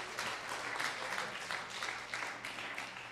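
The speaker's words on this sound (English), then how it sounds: "Give her a round of applause." Audience applause at a Jamaican independence anniversary celebration, a steady wash of many hands clapping at moderate level for the full length, with no talking.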